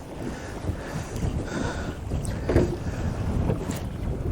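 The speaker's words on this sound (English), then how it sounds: "that wind is really blowing" Outdoor wind blows hard against the microphone during catfishing, a continuous rough rumble with gusting surges and no talk.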